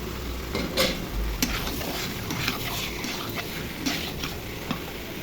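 Cinnamon, cloves and bay leaves fry with chicken in a pan for a chicken bhuna, a steady close sizzle with light stirring taps and clicks.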